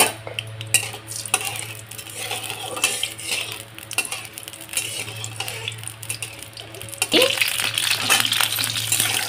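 Black cumin and dried chili tempering in hot mustard oil crackle and sizzle softly under loud clatter of metal utensils against the pan, with the frying growing louder toward the end.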